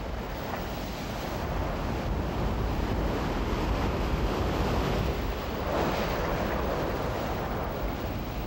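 Ocean surf rolls onto a sandy beach in a continuous broad wash. It swells and recedes gently at a moderate distance, with some wind rumble over it.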